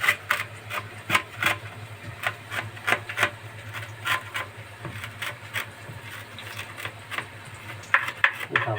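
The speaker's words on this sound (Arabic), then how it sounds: "سامعين صوت السكينة بتقابل بتخش في الكنافة" Knife cutting through a freshly rolled, honey-soaked kunafa-filled phyllo roll, a steady series of crisp crunching cuts and taps against a metal tray, close and clear with no talking.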